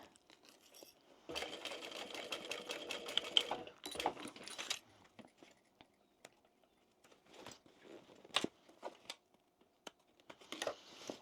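Sewing machine stitching across thick seams of a fabric tote bag, a fast rattling run for about three seconds, then a shorter burst, followed by scattered clicks and brief whirs as the work is adjusted.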